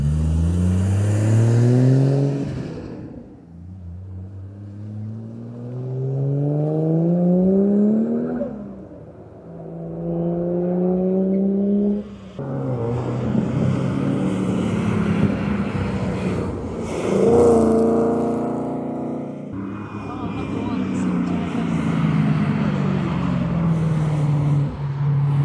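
Cars on a race track at a Collie Motorplex track day, with a 600+HP supercharged GT Falcon among them, rev and accelerate in rising sweeps as several pass one after another, loud and close throughout.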